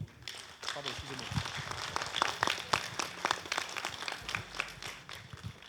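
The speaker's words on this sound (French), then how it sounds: "on les applaudit également" Scattered applause from an audience at a school tribute ceremony in a collège, with irregular clapping bursts spread across the clip and some background voices mixed in.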